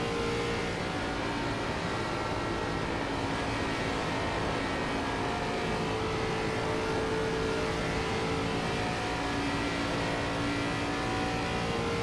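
A race car in the iRacing video game, an ARCA car at Texas, pulls back on the throttle: a loud, sustained engine drone that holds a steady pitch with slight rising swells throughout.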